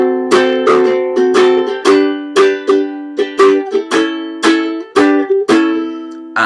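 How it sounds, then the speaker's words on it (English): An acoustic guitar strums a steady universal strumming pattern for a song lesson, bright chord strokes repeating in an even rhythm, close and loud, with no voice over it. "So we're going to go and switch up the strumming to our universal strumming pattern,"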